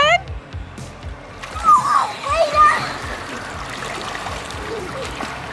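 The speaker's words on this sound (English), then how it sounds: "Is the water warm enough for her to still be in?" A young child splashes in water outdoors, with a few bursts of splashing and light squeals amid adult talk and a steady trickling background.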